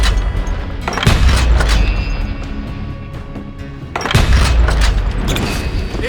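Loud, booming gunfire in the Wild West shooter Call of Juarez: Gunslinger, two heavy blasts followed by dense bursts of rapid shots and echoing rumble, close and overwhelming.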